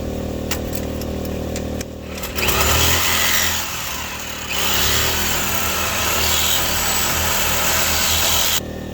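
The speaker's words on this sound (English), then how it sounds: "I got the Sawzall here. Let's see how many blades I do before I get this bolt cut." A Sawzall reciprocating saw powered off a generator cuts through a stubborn bolt, a loud buzzing rasp that starts after a short lull and runs steadily with a brief dip midway, under a constant engine drone.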